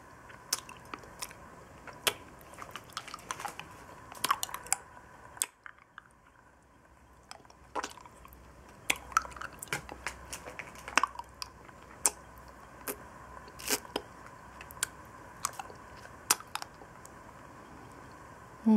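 Wet mouth sounds of a Mexican milk caramel lollipop being sucked and licked close up: irregular smacks, squishy clicks and soft crunchy bites spread through the clip, quiet and intimate with no talking.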